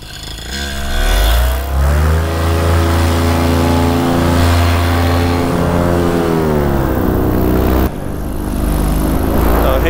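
A paramotor engine drones loudly as the powered paraglider swings by low overhead, its buzzing pitch rising then sliding down as it passes close, followed by a quieter tail of engine noise.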